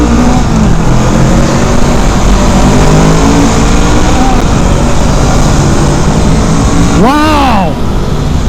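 A Honda Rebel 500 motorcycle accelerates hard, its engine tone climbing steadily under heavy wind rush, with a brief passing whine near the end and voices in the background.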